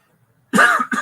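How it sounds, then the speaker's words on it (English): A single close, sharp cough in two quick bursts after a moment of silence. "I thought this cough finally went away forever."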